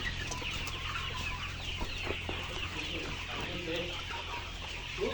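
Layer chickens on a poultry farm holding over 3000 birds cluck continuously as a dense, fairly faint flock chorus over a low steady background hum.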